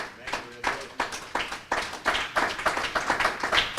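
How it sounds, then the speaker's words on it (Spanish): A church congregation claps in rhythm during a Spanish-language sermon, a steady run of sharp, fairly loud hand claps that builds in density over a few seconds. "Dele una ofrenda de palmas a Dios."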